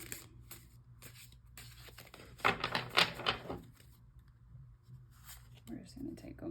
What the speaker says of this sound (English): These are really heavy and it's hard for me to shuffle them.